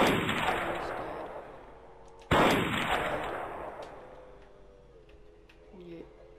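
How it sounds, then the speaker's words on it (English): Two sharp sniper-style gunshots in the stealth shooter game Sniper Assassin 5, each a sudden loud crack with a long decaying tail, the second about two seconds after the first, followed by quieter ambient game sound. "So I know now he's shooting."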